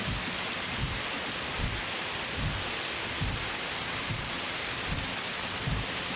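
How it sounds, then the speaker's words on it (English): Hail and heavy rain lashing a car in a sim racing game, a steady dense roar of drumming with low rumbling thuds recurring throughout, loud and unbroken. "That's hail."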